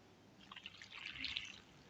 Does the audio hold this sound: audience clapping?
no